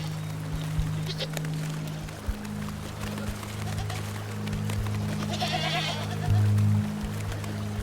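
Several goats in the Canadian Rocky Mountains bleat in wavering, nasal cries as dominant goats jostle for position, with a low steady rumble running underneath and occasional thumps nearby.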